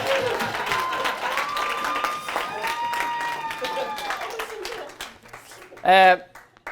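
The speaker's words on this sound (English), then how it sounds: "give them a massive round of applause" Wedding guests applaud at a groom's speech, a crowd clapping under a voice that keeps talking, ending with a short loud burst near the end.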